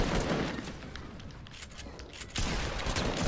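Rapid bursts of video game gunfire crackle continuously under a dense, noisy mix, with the barrage swelling louder near the end.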